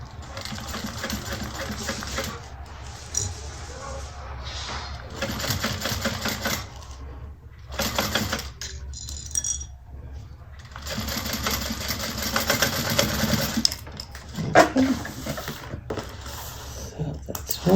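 A sewing machine stitches a bag near its zipper, running in steady mechanical bursts with brief pauses between runs, close up and fairly loud.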